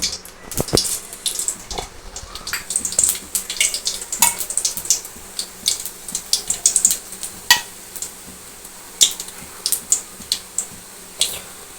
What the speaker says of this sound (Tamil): சோம்பு பொறிஞ்சிருச்சு